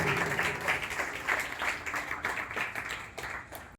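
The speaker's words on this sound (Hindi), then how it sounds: "जोरदार तालियां हमारे सतीश जी और उनकी विशेष के लिए।" An audience at a yoga session applauds, a moderate burst of clapping that swells and gradually fades before ending abruptly.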